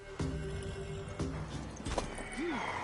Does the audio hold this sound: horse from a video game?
yes